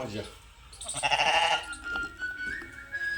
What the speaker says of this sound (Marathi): ह्या साईडला शेळीसुद्धा ती तर दोन मोठ्या शेळ्या आणि दोन पाटी आहेत आणि इकडे हे मेंढर